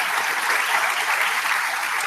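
Dense, loud applause from a crowd at a white coat ceremony, a steady wash of many clapping hands filling the whole moment without voices.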